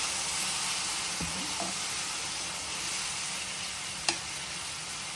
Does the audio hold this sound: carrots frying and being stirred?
yes